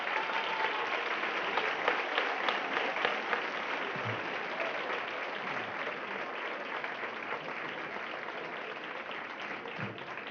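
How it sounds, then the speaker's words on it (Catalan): A concert audience applauds a band director at a children's symphonic music show, steady dense clapping sustained throughout at an even level, with no talk over it. "Un aplaudiment per a ell."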